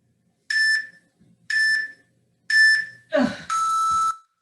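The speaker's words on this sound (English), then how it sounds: "So you guys hear that long beep, you know when it's time to rest." A workout interval timer gives three short electronic beeps about a second apart, then a longer sustained tone marking the start of a rest period, with a brief grunt or voice sound just before the final tone.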